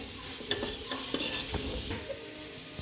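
Chopped tomatoes are stirred into chicken curry in a pan, with steady frying sizzle under repeated spoon scrapes and light clinks against the metal, close and moderately quiet.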